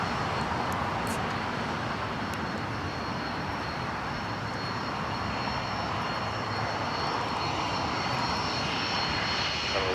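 Cessna Citation business jet landing at LAX, its engine roar a steady, broad, continuous rumble heard from a distance with no voices over it.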